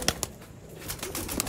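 Pure Sialkoti breeder pigeons, young males and females kept in a small cage, cooing in soft, scattered bursts with faint wing flutters and rustling close by.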